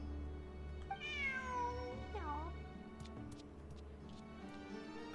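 A cat meows twice in the Genshin Impact video game, with clear rising-and-falling cries over a steady low in-game hum and soft background sounds.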